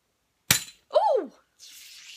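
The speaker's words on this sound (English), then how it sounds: "we're meant to pop this out the cap and that goes over the marble" A marble pushed down into a Japanese marble soda bottle gives one sharp glassy clink, then a short voiced exclamation, followed by a soft steady fizz.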